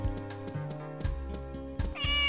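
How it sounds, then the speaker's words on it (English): A cat meows in Harvest Moon: Magical Melody, one rising tonal call near the end over steady looping game music, loud and close, with no talking. "Hi, Mr. Cat."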